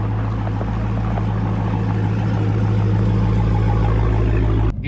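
A 700 horsepower car engine runs steadily and loudly close by, a deep droning rumble holding for several seconds before it cuts off abruptly near the end.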